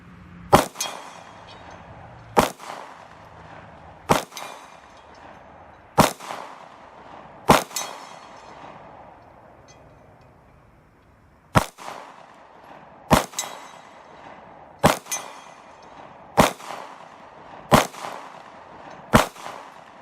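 Single shots from a CZ P10C pistol ring out at an outdoor range, with the target 75 yards away. Eleven sharp reports come at uneven intervals of one to two seconds, each followed by a brief echo, with a quiet pause in the middle.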